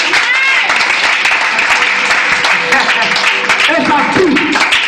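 A church congregation claps and applauds loudly and continuously, a dense wash of hand claps filling the room with voices mixed in.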